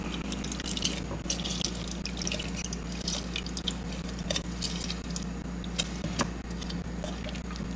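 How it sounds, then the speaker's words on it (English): Juice from a squeezed fresh lime dripping and trickling into water below, a close, soft patter of small drips with faint wet splashes running steadily throughout, no voices. "You see that we have enough water coming out of the lime."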